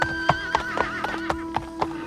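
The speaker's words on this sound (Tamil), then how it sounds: "குதிரை காலடியின் சத்தம் கேட்டது." Horse hoofbeats on the way of Pallava envoys in historical Chola-era Tamil story: a steady run of about eight clip-clop strikes with loud repeated neighing and whinnying over them, close and clear, no talk.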